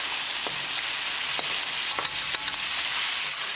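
Chilli chicken sizzling steadily in a frying pan with hoisin and green chili sauce as it is stirred, a constant hiss broken by light scraping and tapping of the utensil.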